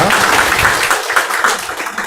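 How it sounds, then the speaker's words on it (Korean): A church congregation claps steadily in welcoming applause during a worship service, a dense patter of hand claps filling the room without a break for a couple of seconds. "그 자리에 일어서 주시면 박수로 환영하도록 하겠습니다"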